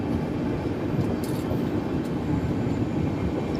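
Garib Rath express train, a brand new 3rd AC coach, rolling along the rails near Anand Vihar, with a steady, loud, continuous low rumble and rattle throughout.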